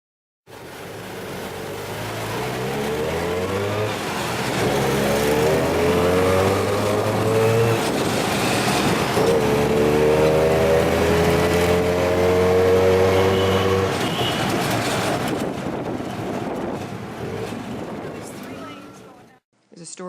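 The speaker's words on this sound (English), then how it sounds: "We took our first tuk-tuk ride." A tuk-tuk motors through busy Bangkok streets, its small engine revving and shifting pitch as it accelerates and slows amid passing traffic, loud and close for most of the ride before dropping away near the end.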